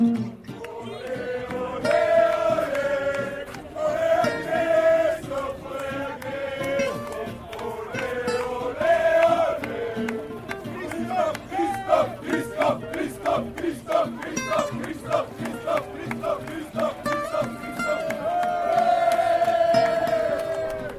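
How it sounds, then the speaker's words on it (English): Norwegian cycling fans roadside near Nancy at the 2014 Tour de France, a crowd roaring, chanting and whooping in loud repeated surges, with rhythmic group shouts rising and falling over about twenty seconds. "the sound of the Norwegian supporters in Nancy this morning, or just outside Nancy, cheering for their man Alexander Kristoff"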